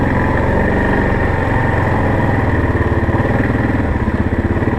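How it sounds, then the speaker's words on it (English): Motorcycles running on winter ice, race bikes nearby, a loud continuous engine chug with a steady rhythmic low pulse throughout. "A couple guys on bikes here"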